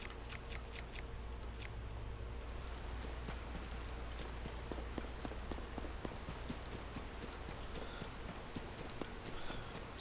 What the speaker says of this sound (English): It's raining, so I can't use the cooking pots.